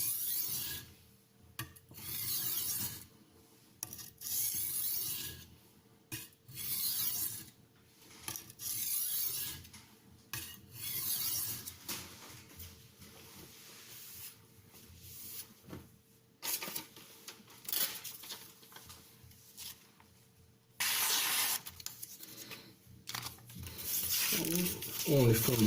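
Knife sharpening on an aluminium oxide whetstone, fine FEPA 1500 / JIS 6000 grit, heard as repeated rhythmic rasping strokes in short bursts with brief pauses, close and moderately loud.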